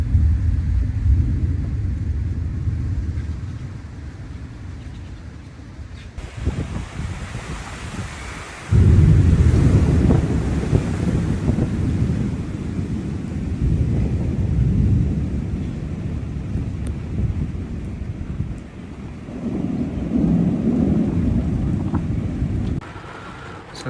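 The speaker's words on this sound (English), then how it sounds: "there's lots of thunder coming in, so I suspect we are going to get some rain tonight" A thunderstorm in Kruger rolls in with long, deep rumbles of thunder that swell and fade several times over a rain-and-wind backdrop, loud and close at moments, with no talking.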